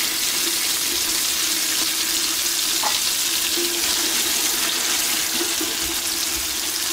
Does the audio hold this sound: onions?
yes